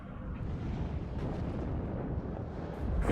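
In the war game WARNO, artillery fire produces a steady low rumble of distant blasts that blend into a continuous roar, with a few sharper pops near the end and no speech.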